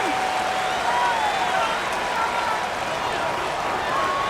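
A continuous roar of a large stadium crowd in the football video game Madden NFL 19, steady and loud throughout, with a faint rising whistle-like tone drifting above it.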